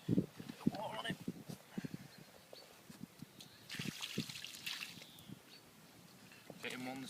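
Water trickles and splashes over a freshly landed carp on the bank, in faint intermittent pours and drips while an angler talks nearby.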